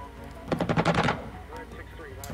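Aircraft cannons in the Xenonauts air-combat game fire a rapid burst of about eight sharp, loud reports in the first half, followed by a quieter electronic hum and tones.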